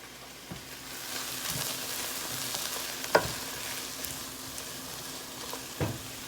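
Steady sizzling and bubbling of beef cooking in a pan for red chili, with a few sharp clicks and scrapes of a utensil stirring now and then.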